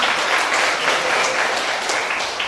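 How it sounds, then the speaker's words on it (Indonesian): A classroom full of students applauding together, dense and steady clapping that lasts the whole moment with no voices over it. "Tepuk tangan."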